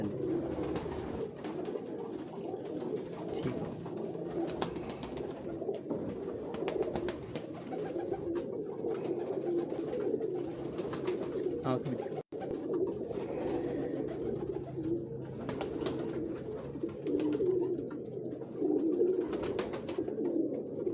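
Pigeons coo steadily on a rooftop in Lahore, a dense, continuous chorus of low, rolling calls.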